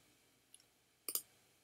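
Mouse clicks in an image editor: a faint tick pair, then two sharper, louder clicks in quick succession, close and dry against a quiet room.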